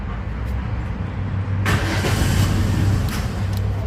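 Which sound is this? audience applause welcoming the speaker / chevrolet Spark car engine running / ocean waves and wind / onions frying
chevrolet Spark car engine running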